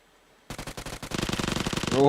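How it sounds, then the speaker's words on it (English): Rapid Uzi fire in a competitive esports match, bursts of close sharp shots that quicken into a dense rattle, with a commentator's voice running underneath. "Hydra with some great Uzi shots there."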